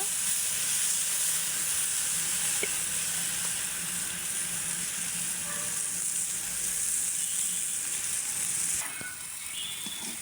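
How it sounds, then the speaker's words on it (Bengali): Gourd flowers, bean flowers and beans fry in a pan with a loud, continuous hissing sizzle. The sound stays close and even throughout, softening slightly near the end. "তো আমার এগুলো কিন্তু এখনও ভাজা হয়নি, আরও ভেজে নেব।"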